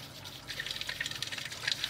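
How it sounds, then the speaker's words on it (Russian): Water trickles and gurgles as the flasks of a reverse osmosis filter fill and the faucet bubbles, giving soft, close, irregular dripping and bubbling with no voices. "Вы слышите, уже пошли заполняться колбы, кран забулькал."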